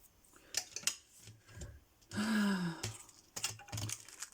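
Small scissors snip through paper while a Christmas gift tag is being made, giving a few short, crisp cuts spaced apart, close and fairly quiet, with a brief sighing or whooshing sound in between.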